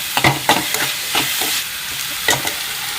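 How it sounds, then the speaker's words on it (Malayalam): Fish frying in a pan with ginger and garlic, a close, loud sizzle broken by repeated stirring scrapes and clinks at an uneven rhythm, with no voices. "നമുക്ക് കുറച്ച് മീൻ ഫ്രൈ ആയി വരുന്നുണ്ട്"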